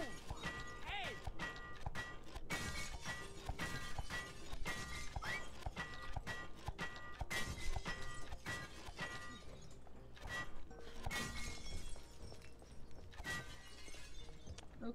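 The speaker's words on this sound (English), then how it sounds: "What do you get out of destroying all of the glass?" Glass panes shatter again and again in the video game It Takes Two, with dense sharp crashes and tinkling breaks over a steady game soundscape.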